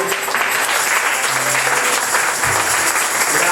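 Church congregation applauding, a dense, moderately loud clapping that runs steadily for a few seconds without talk.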